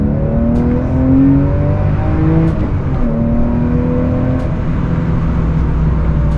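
Porsche 996 911 flat-six revving hard under heavy driving, a loud continuous engine note climbing and dropping through the gears with a brief dip near the middle, steady and close with no talk.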